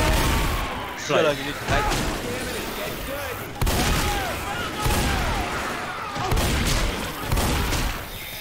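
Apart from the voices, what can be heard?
gunfire in video game Left 4 Dead 2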